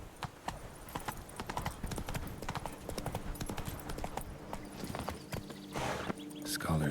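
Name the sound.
horse Roach trotting hooves, from video game The Witcher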